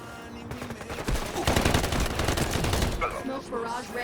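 Rapid bursts of automatic gunfire in a fast modern first-person shooter match against bots, loud and sustained, with weapon clatter and game effects layered over a dense barrage.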